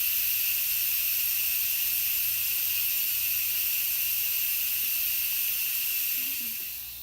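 Steam hissing steadily from an Instant Pot's vent during a quick pressure release after cooking risotto, a loud constant high hiss that holds for several seconds and fades slightly at the end.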